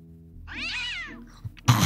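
A cat in the video game Day of the Tentacle Remastered gives one drawn-out, rising and falling meow, clear and close. A short click follows, then a burst of broadband noise at the end.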